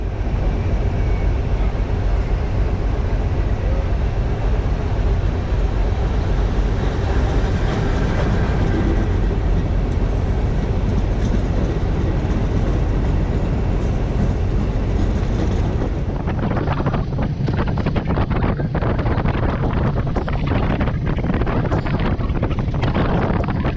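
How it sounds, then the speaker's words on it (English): Comboios de Portugal passenger train on the Douro line approaching a passing loop, a loud, continuous rumble with heavy wind buffeting, building into sharper rattling and clatter as it draws near. "Approaching now is the first train of the day from Pocinho to Porto."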